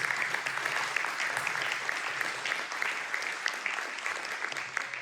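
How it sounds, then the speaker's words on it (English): Audience at a Ward 6 candidate forum in Riverside applauds in a steady, dense wash of clapping that holds evenly throughout, with no talk over it. "let's give them another round of applause"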